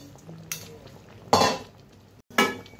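Dried loitta fish drops into a pan with water spinach stems and starts frying, heard as a clink followed by two loud bursts of sizzling with a short hush between them.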